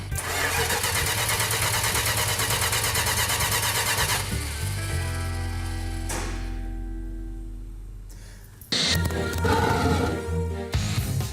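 A 1968 Dodge Charger R/T V8 cranking but failing to fire, the starter grinding steadily for several seconds, slowing and dropping out, then a brief renewed crank, loud and close.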